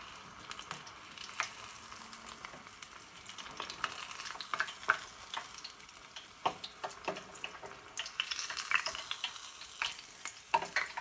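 Tofu fries in oil and is lifted out piece by piece, a faint crackling sizzle broken by irregular clicks and scrapes of utensils, with no talking.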